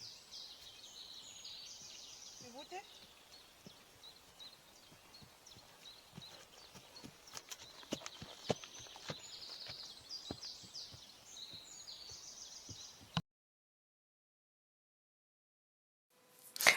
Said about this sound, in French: c'est le chemin de balade qu'on fait souvent en fin de cours pour faire marcher les chevaux à l'extérieur